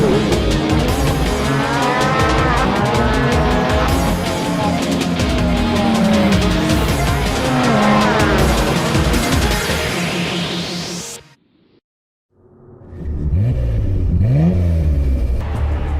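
Cars drifting and revving in a realistic racing video game, with a loud continuous engine roar, rising revs and tire squeal, a brief dropout to silence near the end, then more engine rumble.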